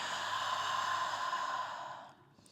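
A long, soft exhale through the mouth during yoga breathing sounds as a steady, breathy airflow that lasts about two seconds, then trails off into quiet.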